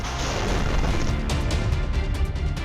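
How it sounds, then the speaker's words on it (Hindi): Russian missile strike explosion in western Ukraine, heard as a heavy, sustained roaring boom with rough crackling bursts rolling through it, no voices. "अचानक से सनसनाती हुई मिसाइल आकर गिरती है और पूरा इलाका धमाके की आवाज से थर्रा जाता है।"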